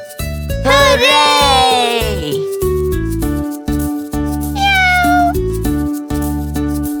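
A cartoon kitten gives two drawn-out, rising-and-falling meows, loud and close, over steady bright background music.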